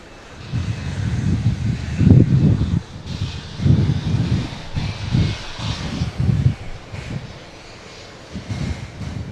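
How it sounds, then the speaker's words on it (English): A Boeing 777 airliner at JFK Airport rumbles at a distance, its engine roar rising and falling in broad swells with some wind noise over the microphone. "We're going to keep our eyes on the British 777. And we'll pan the camera over to the arriving 777 in just a bit."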